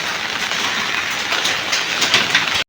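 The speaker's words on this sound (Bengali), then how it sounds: "এখনো হালকা হালকা করে বৃষ্টি পড়েই যাচ্ছে।" Steady light rain falling outdoors in Siliguri after a night of continuous rain, a dense even hiss close by that cuts off abruptly near the end.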